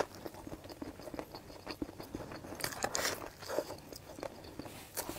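Close crunchy bites and wet chewing of hot boiled waxy corn, soft and sticky, repeating in an irregular rhythm with no talking.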